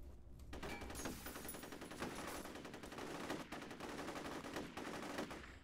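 Rapid automatic gunfire in the F.E.A.R. video game, dense bursts of sharp shots firing continuously and loudly throughout with no voices.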